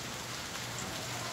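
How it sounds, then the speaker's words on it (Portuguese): Steady rain falls continuously, a dense even wash of drops with no pauses and no voices, heard at home on a rainy day. "Ó o ventinho de chuva."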